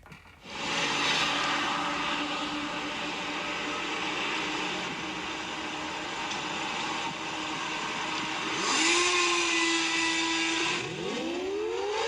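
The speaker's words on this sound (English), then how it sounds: "that's the blower starting first right there. And that is the blower glitch right there." Blower on a newly built Aca Hurricane siren spinning up early, a loud steady wail with a rising pitch sweep near the end and a glitchy dip, no talking.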